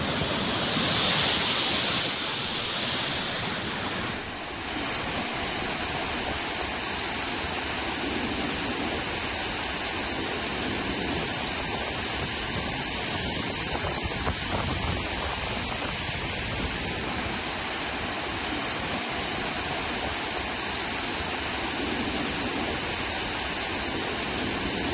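More than 13,000 cusecs of water released from the full Harangi Dam reservoir in Kodagu after heavy rain, a loud, steady, close roar of rushing water that continues unbroken with no voices.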